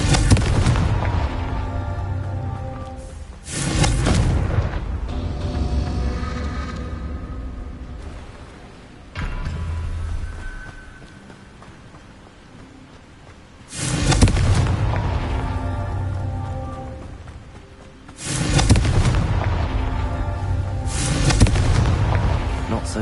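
Spell blasts from the Confringo fire charm in Hogwarts Legacy boom out in heavy, broadband bursts, four big explosions spaced several seconds apart with rumbling game ambience and music between them.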